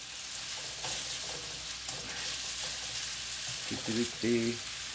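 Steak pie filling with onions sizzles and fries in a pan, a soft steady crackle with occasional stirring, and a voice talking briefly near the end.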